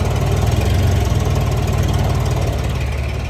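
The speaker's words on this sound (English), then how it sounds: "I think I have a slight exhaust leak at the muffler." A 1994 Honda Goldwing 1500 Aspencade motorcycle idles close by with a slight exhaust leak at the muffler, giving a steady, rhythmic low thrum with a faintly rough pulse throughout.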